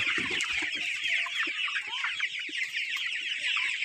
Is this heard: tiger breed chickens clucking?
yes